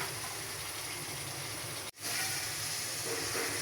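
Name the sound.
frying long beans (borboti) in a pan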